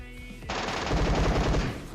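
Rapid automatic gunfire in the mobile shooter game PUBG Mobile starts abruptly after a short lead-in and then rattles on as a loud, dense burst of shots for the rest of the clip.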